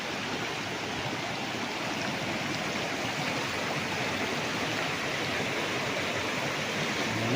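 A river flows steadily nearby beside a farm in Liliw, Laguna, an even rushing babble of water that holds constant throughout, with no voices.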